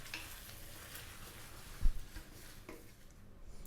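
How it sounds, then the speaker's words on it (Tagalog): Vegetables and spring onion leaves stir-fry in a pan for a Filipino chicken sotanghon dish, a soft steady sizzle with faint scraping stirs and one brief clunk midway. "Nilagay ko na yung ating pan-fry na vegetables at ang dahon ng sibuyas. Lulutuin ko lang siya ng mga 2 minutes"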